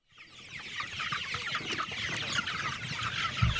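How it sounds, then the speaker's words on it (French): A dense flock of broiler chickens, about four to five months old, clucking on a farm in Aba, a continuous overlapping chorus of clucks and chirps, close and steady. "Ces poulets n'ont que 4 à 5 mois, mais leurs jours sont déjà comptés."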